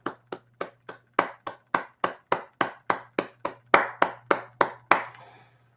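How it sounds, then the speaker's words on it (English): Applause from an audience at a scout district dinner, seventeen sharp, evenly spaced claps over a steady low hum, ending in a brief fading tail. "please give all these folks a round of applause"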